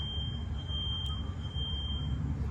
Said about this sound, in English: That's the sound of a fire alarm.